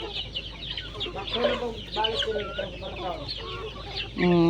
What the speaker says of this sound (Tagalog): So itong manok na to, native at saka ano, Red Island